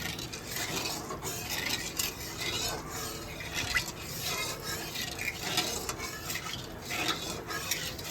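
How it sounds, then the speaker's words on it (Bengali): Oil with a pinch of salt stirred in a pan while prepping home-made chilli chicken, a steady scraping of utensil against metal with light clinks, close and continuous throughout. "একটু নুন দিয়ে দিচ্ছি তেলের মধ্যে, একটু নাড়িয়ে দিই তেলটা।"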